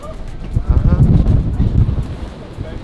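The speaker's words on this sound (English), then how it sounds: "Just a little bit windy" Wind gusts on arrival in Zurich, Switzerland, producing a low rumbling buffet across the microphone that swells and then fades over a few seconds.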